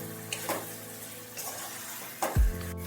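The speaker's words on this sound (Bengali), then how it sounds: "ভালোভাবে একটু নেড়ে চেড়ে নিয়ে" Yogurt chicken curry being stirred in a pan, soft sizzling frying with a few scraping stirs and a sharp clunk near the end, close and moderately quiet, no talking.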